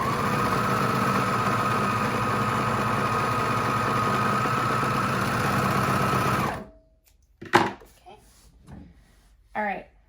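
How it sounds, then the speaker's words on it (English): A sewing machine runs steadily for about six seconds as it stitches a seam on underwear fabric, a close, even mechanical whir that stops abruptly, followed by a few soft handling clicks and rustles. "I'm just going to go ahead and sew this seam next."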